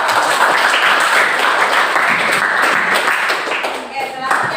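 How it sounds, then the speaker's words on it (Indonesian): Dense, loud applause from a classroom of students clapping for a group after its presentation, a continuous wash of many hands that thins slightly toward the end, with some voices mixed in. "berikan tepuk tangan untuk kelompok"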